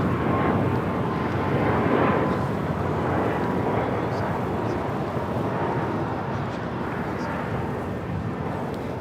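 A large airliner at Los Angeles International Airport on the south side runway, steady broad engine roar at moderate distance, with faint radio talk.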